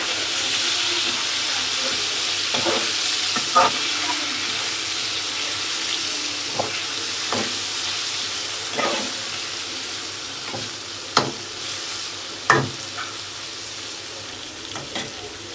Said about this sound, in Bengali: এখন আমি মাছগুলো দিয়ে দিলাম দিয়ে দিত মাছগুলো হালকা একটু ফ্রাই করা লাগবে